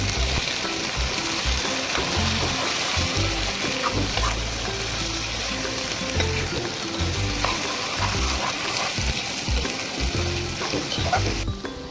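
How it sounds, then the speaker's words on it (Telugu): Chopped carrots, beans and capsicum are tossed into a hot pan and stirred, producing a constant close sizzle with scraping and clattering of the spoon against the pan, steady for the whole stretch, no talking. "ఇప్పుడు ఇందులో మనం చాప్ చేసి పెట్టుకున్న క్యారెట్స్, బీన్స్, క్యాప్సికమ్ అన్నీ వేసి ఒకసారి బాగా కలుపుకోవాలి"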